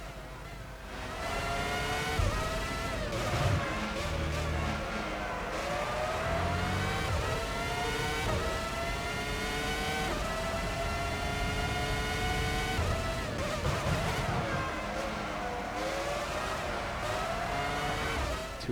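A Formula One race car in Formula One 05 roars under throttle at the European round, the engine note climbing and dropping through repeated gear shifts and corners, loud and steady throughout.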